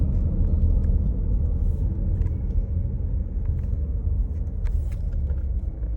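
A 2017 Jeep SRT driving along a back street with a faulty shifter, its engine a steady low rumble from inside the cabin, constant and fairly loud with no clear surges.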